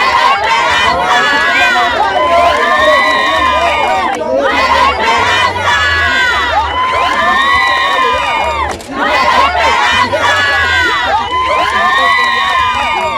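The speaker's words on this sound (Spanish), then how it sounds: "¡Aplausos! ¡Felicidades a todos!" A large, loud crowd at a school founding-anniversary celebration in Muná cheers and shouts continuously, with many children's voices rising in waves and clapping mixed into the din.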